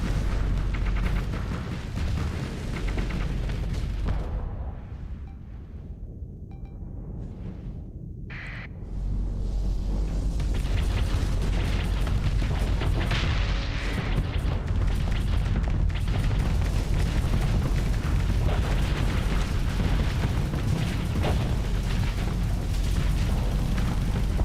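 Weapons and torpedoes firing in the space combat game Starsector, a dense barrage of heavy booms and rumbling blasts, loud and continuous, with a brief quieter lull near the middle before the bombardment resumes.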